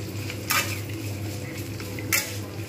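Chopped onions frying in a pan as they are stirred, a low steady sizzle with two brief scraping stirs of a utensil against the pan, close-up and moderately quiet, no voices.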